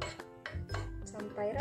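A spoon stirs batter mixed with cornstarch flour in a bowl, giving a few quick clinks and scrapes against the bowl in short irregular bursts, close up and fairly quiet.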